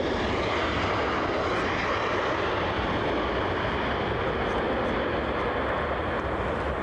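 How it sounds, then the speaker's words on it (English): A Turkish Airlines Airbus A321 jet coming in to land at Brussels Zaventem airport gives off a continuous broadband roar at moderate distance, steady and unbroken throughout. "Turkish Airlines inbound from Istanbul with an A321."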